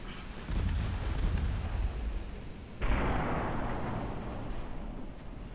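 Naval battle fire in Ultimate Admiral Dreadnoughts: a heavy rumbling blast opens, then a second sharp boom follows midway and rolls out into a long, loud, noisy decay with no talking.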